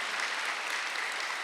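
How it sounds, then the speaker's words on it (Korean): Congregation clapping in a church during a Sunday worship service, a dense, even burst of many hands applauding loudly and continuously with no speech over it. "박수 세게 치셔요."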